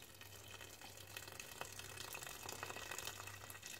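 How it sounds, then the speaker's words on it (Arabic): Hot water pours steadily into a pot of pea and carrot stew, a soft continuous gushing and splashing that is fairly quiet and heard alone. "هلا رح زيد عليها المي السخنة."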